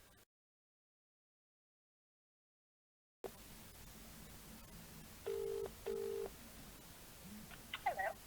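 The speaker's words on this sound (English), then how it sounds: "I better phone my girlfriend, Lady Gulliver, and break the news to her." Telephone keypad tones on a phone call in a Minecraft episode: two steady beeps of a dialed number, fairly quiet over a low hiss, followed by faint ringing chirps.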